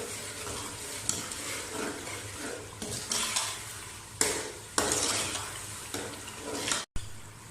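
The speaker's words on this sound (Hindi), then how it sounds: "चिकन डालकर आपने इसे 5 मिनट के लिए अच्छी तरह पका लेना है।" Chicken pieces frying in a pan for Lahori chana curry, continuous sizzle with repeated spatula stirs and scrapes against the metal, close and fairly loud, ending in a brief cut, no voices.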